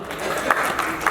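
Audience applause at a travel and hospitality awards summit, a brief steady patter of clapping from a crowd at moderate distance.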